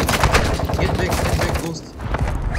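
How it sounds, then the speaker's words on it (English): Rapid gunfire from the video game Warzone 2, loud and dense bursts of shots filling most of the clip, briefly easing before resuming. "Taking effective fire!"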